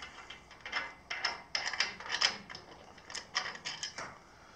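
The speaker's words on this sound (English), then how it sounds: "Just loosen the bolt." Loosening a bolt on a Robland X31 miter gauge gives a series of close, crisp metallic clicks and ratcheting scrapes in uneven bursts over a few seconds, with no talking.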